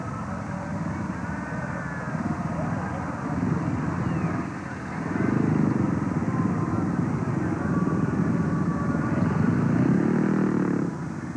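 Speedway motorcycles racing in a 1981 League Speedway heat between Birmingham and Swindon, a steady distant engine drone that swells louder as the bikes pass, with a commentator's voice over the top.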